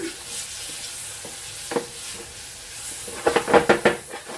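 Mushrooms frying in butter in a pan, a soft steady sizzle with stirring, then a burst of louder scraping and clattering strokes near the end.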